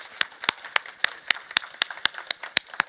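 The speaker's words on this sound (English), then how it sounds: "Let's give a big round of applause to our panelists." Applause for conference panelists at a 2019 digital skills event, heard as a sparse, fairly regular run of sharp individual handclaps, close and distinct rather than a full crowd roar.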